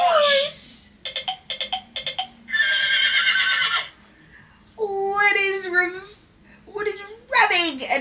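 Electronic horse whinnies play from a children's sound book speaker, several shrill neighs separated by pauses, with a voice babbling nearby.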